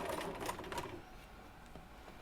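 Sewing machine stitching pieced quilt block seams at a quarter-inch allowance, a quick rapid mechanical run of stitches for about a second, then stopping into quieter background.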